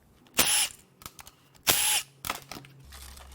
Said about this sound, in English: We're going to just take all the bolts out and see what falls off.